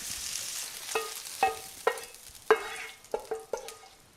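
Chicken pieces browning in a pan while being turned, with a soft background sizzle broken by several sharp clinks and scrapes of a utensil against the pan at irregular intervals, close and fairly quiet.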